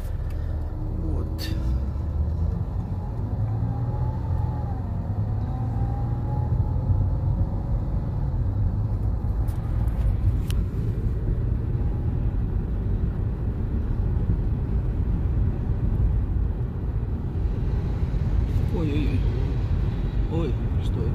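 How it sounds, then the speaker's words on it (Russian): A car accelerates hard along a residential street in an American neighbourhood, a loud sustained engine rumble building and holding steady throughout, with a voice talking over it. "разогнался дядя на машине сильно"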